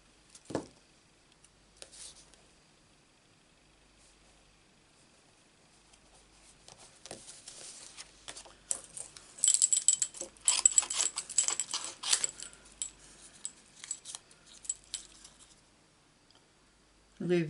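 Scissors snip around a piece of black card for a papercraft project, a run of close, quiet crisp cuts and clicks with a brief soft tap at the start and end.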